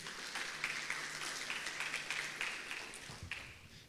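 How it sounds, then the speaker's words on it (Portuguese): A church congregation claps together, a moderately distant, continuous patter of many hands that keeps up for several seconds before tapering off, with no voices over it. "Você pode dar uma salva de palmas a Deus?"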